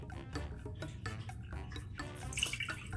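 A michelada is poured from a container with a lid that does not close properly, so liquid splashes and trickles steadily, growing slightly louder toward the end.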